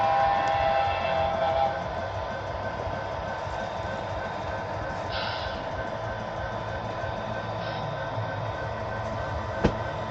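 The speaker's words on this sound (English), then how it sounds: "His horn's still nice and loud." A model train locomotive on a small loft layout sounds its horn in steady held tones over the soft rumble of running trains, with no one talking.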